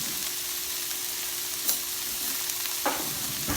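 Shrimp sizzle steadily in an electric skillet, a constant bright frying hiss with a couple of faint clinks and stirring scrapes near the end.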